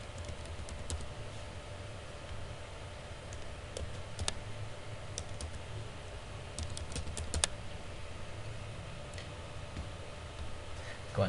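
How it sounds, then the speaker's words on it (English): A password typed on a computer keyboard, with steady, soft, close key clicks in an irregular rhythm over a low background hum, a few sharper taps standing out. "I input my password here."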